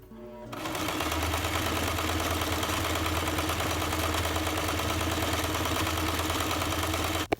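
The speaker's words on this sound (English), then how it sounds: "So I started sewing it, but because it is like a stretchy material" Sewing machine running steadily while stitching a hem on stretchy fabric with a straight stitch, a loud continuous whir holding for about six seconds, then stopping abruptly.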